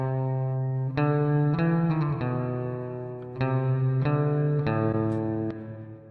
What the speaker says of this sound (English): now my reverb comes before the amp.